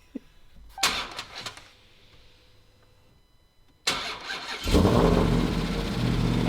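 A Dodge Hellcat Redeye engine cranks and fires up with a loud, sudden roar, then settles into a heavy, rumbling idle, after a quieter stretch of faint rustling and a few clunks.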